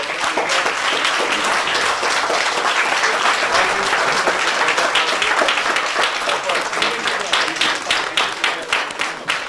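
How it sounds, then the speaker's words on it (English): Sustained, loud applause fills the hall at the close of a journal launch ceremony, many hands clapping steadily for a standing ovation, with individual claps growing more distinct toward the end. "Let's give a big round of applause and standing ovation for"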